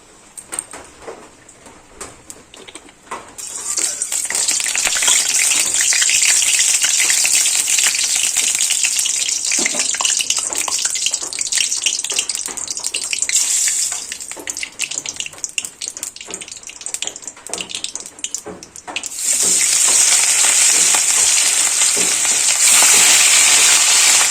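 Katla fish pieces fry in hot oil in a wok, a loud steady sizzle and crackle that swells in after a quieter start, dips briefly, then surges again toward the end; no talking.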